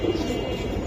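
Silver giribaz pigeons of the pankhi line cooing in a soft, continuous low murmur, close and steady through a brief stretch with no talk.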